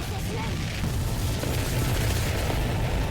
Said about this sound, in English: I like the bass on that explosion, though.